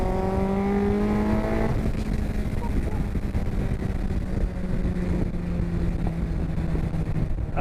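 Road-legal Cup 200 race car engine droning loudly while driving on the road, a high revving note that drops and then holds a steady heavy roar with wind and road noise, close to the car.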